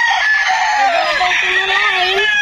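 Young roosters (stags) crow at a game farm. One loud, close crow is drawn out and wavering, and other birds and voices sound faintly behind it.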